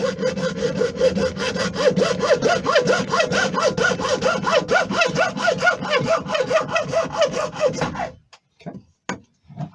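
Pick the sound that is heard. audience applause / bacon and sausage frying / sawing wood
sawing wood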